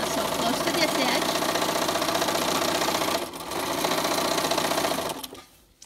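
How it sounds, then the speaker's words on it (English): A sewing machine stitches close along the edge of a face mask in a steady, loud, continuous run that dips briefly and then stops. "I'm going to sew close to this edge"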